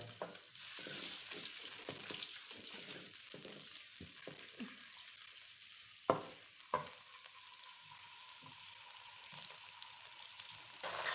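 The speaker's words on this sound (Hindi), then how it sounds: "प्याज को सबसे पहले ब्राउन कर लेते हैं हल्का।" A steady sizzle of onions frying in a pan for an eggplant curry, with a few sharp clinks of a utensil stirring partway through; no voices.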